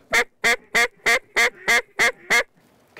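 Ducks at Reelfoot quack loudly and close in a run of eight evenly spaced calls while dropping down through falling snow, then fall silent.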